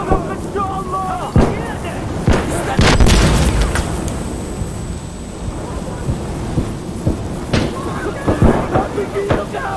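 RPG explosions boom heavily amid bursts of sharp gunfire in the video game Insurgency Sandstorm, with repeated loud cracks and a long rumbling blast in the middle while players shout over the battle.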